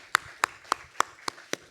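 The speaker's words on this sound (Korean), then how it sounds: "손 들어주시면 박수로 환영하겠습니다." A church congregation applauds a visitor with faint, evenly spaced claps, six sharp hits in a quick steady rhythm with no voices over them.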